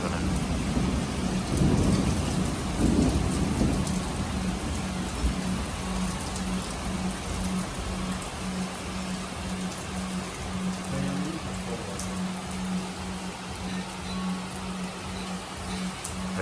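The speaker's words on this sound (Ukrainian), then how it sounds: "Блін, реальний дощик пішов тут." Heavy rain pours steadily at a lake with thunder rumbling low, loudest in the first seconds; a dense, continuous hiss with a faint steady hum underneath and no talk.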